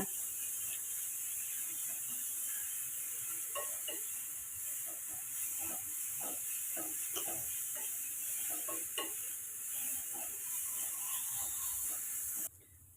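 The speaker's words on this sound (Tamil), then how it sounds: "நம்ம முள்ளங்கி இந்த மாதிரி வதக்கி பொரியலை பண்ணி கொடுக்கலாங்க" Grated radish stir-fry sautés in a pan, a steady close sizzle and hiss with repeated scraping stirs of a spatula throughout, ending abruptly.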